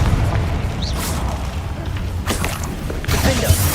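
Spell blasts in Hogwarts Legacy burst out as several booming impacts and whooshing bursts spaced across a few seconds over a dense bed of game sound, with no talking over them.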